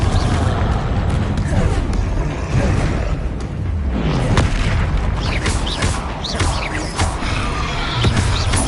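Repeated booming blasts of the Confringo fire spell in Hogwarts Legacy, loud and dense, cast during a fight near a troll, with heavy low rumbles and crackling debris across the whole stretch.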